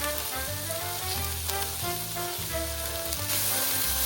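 Garlic with red chili powder and chili flakes fries in a pot, a soft continuous sizzle running under a low steady hum and background tones.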